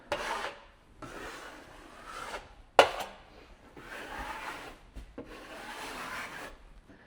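A drywall knife drags joint compound across a mesh drywall patch in slow back-and-forth rasping strokes, close and fairly quiet, with one sharp tap of the blade midway.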